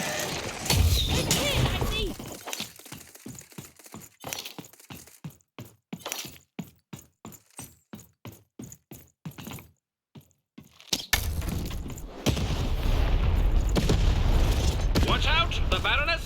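Cannon fire in the Lost In Random video game, a sequence of sharp booming blasts in rapid rhythm amid game music and effects, followed by a louder, sustained rumbling stretch.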